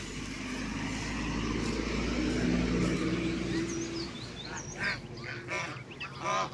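Ducklings quack in a cluster of short calls after a stretch of low rumbling background noise, fairly close and irregular.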